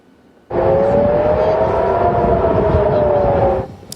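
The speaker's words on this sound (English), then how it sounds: "That was the sound of air sirens in Jerusalem, warning people of incoming rockets." A single sustained air raid siren tone in Jerusalem, warning of incoming rockets, starts abruptly and holds steady for about three seconds before cutting off, loud and continuous over background noise.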